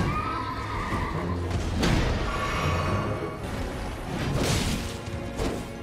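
A horse in the Elden Ring game whinnies loudly twice, the calls rising over clattering hooves and heavy impact sounds from combat, with no talking.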